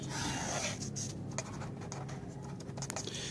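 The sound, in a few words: writing a number by hand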